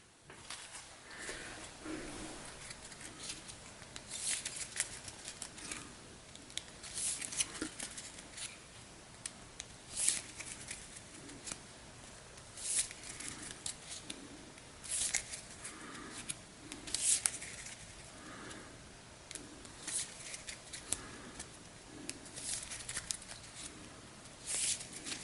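A deck of cards being shuffled during a Star Wars: The Clone Wars tabletop board game, soft papery riffles and rubbing in quiet, repeated bursts close to the table.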